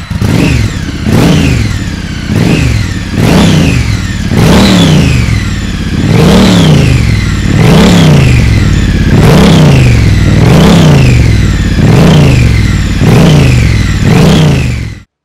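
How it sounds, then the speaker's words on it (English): A Triumph motorcycle fitted with aftermarket Vance & Hines slip-on exhausts and a decat X-pipe is revved repeatedly. About a dozen loud, close throttle blips rise and fall in a regular rhythm over a rumbling idle. "now we have a noise test of the Triumph aftermarket Vance & Hines pipes, slip-ons"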